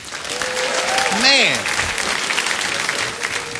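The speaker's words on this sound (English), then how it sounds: "give yourselves a round of applause" A comedy club audience applauds loudly and steadily, and a voice briefly cuts through the dense clapping midway.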